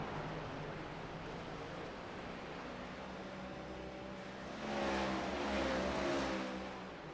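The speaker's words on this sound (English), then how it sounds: "Hear that engine shutting down. He's clutching down into the corners now." Race car engine in a racing video game on the Dover Motor Speedway oval, a steady drone of revs under broadband noise, swelling louder around the fifth to sixth second as the engine winds up with rising harmonic whine.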